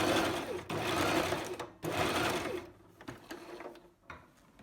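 A sewing machine stitches an elastic waistband in fast, rattling runs. It pauses briefly, back-stitches, then carries on in shorter, stop-start bursts, loud and near.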